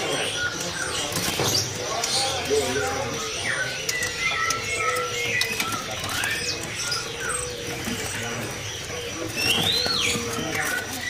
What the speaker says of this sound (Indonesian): Di depan kita ini ada burung jalak suren gacoran ya.